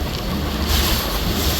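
Rough river waves churn around the Adventure-9 passenger launch, a steady loud rush of water mixed with buffeting wind, with no voices.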